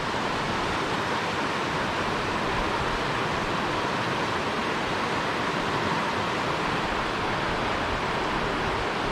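A river flows over rocks in an alpine wilderness, giving a steady broadband rush that holds at a loud, unbroken level for the whole stretch with no voices.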